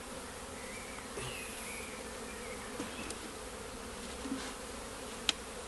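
Bees swarm around a bait hive, a dense continuous buzzing hum close by with individual insects flying past, and a sharp click near the end.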